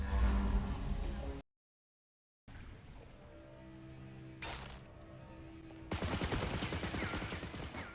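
Rapid gunfire in Riftstorm video game as wooden boxes get shot up, a fast rattling burst, a moment of silence, then more clattering shots and smashing.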